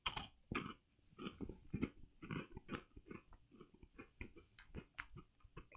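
Close, loud crunching and chewing of a crisp Japanese wafer snack, with rapid irregular bites and mouth noises continuing throughout and no talking.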